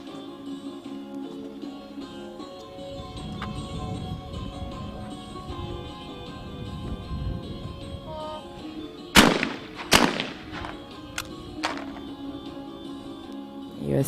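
Skeet shotgun shots at a women's team medal match in Cyprus, several sharp cracks in quick pairs and singles heard over the steady murmur of a distant crowd.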